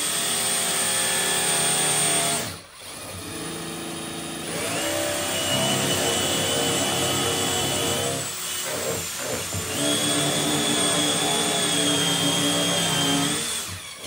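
Drill press boring down through a sacrificial backing piece on a workbench, a steady loud motor whine with a brief dip near the start and a second change midway, running continuously with no talk.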